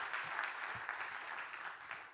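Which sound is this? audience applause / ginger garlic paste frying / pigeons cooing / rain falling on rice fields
audience applause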